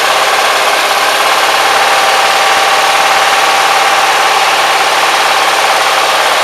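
A small gas engine on a vaporizer fuel setup runs after the gas and air are opened, a loud steady buzzing drone with fine rapid pulsing, continuous and close with no pauses.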